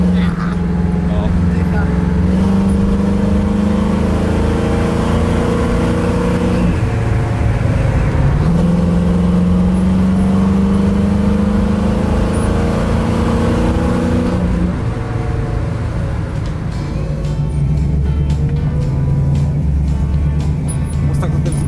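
A 1969 Ford Mustang with a 5.7-litre engine runs with a deep, steady rumble and rises in a couple of sustained revs, heard close and loud with people talking over it.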